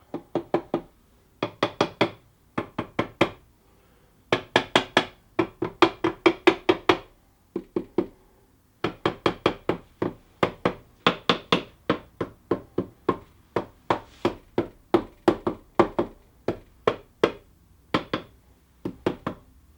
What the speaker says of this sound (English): Right, so I'm going to give it a gentle tap.